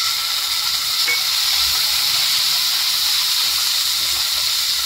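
Garlic frying in a pan as tomato goes in, giving a steady, loud, close sizzle with a continuous hiss and no pauses and no talk.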